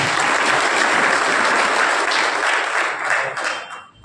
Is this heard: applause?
yes